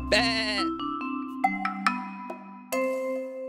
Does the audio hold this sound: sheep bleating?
yes